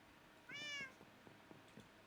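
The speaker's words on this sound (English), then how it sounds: "Shut up, cat." A house cat gives a single short, clear meow, faint and close, followed by a few soft scattered taps and clicks in an otherwise quiet room.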